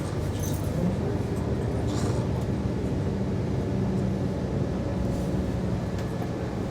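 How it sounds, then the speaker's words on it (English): Diesel train engine with a mechanical transmission, running loud and close as a dense, continuous drone whose pitch shifts slightly as gears change, with no talk over it. "What I like about mechanical transmission is that you can hear the change of engine sound, like this."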